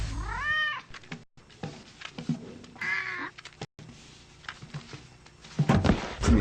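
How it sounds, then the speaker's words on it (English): A cat meows several times, with a drawn-out wavering call at the start and more calls later, mixed with thumps and brief rustling noises, fairly faint overall. "Does your cat make too much noise?"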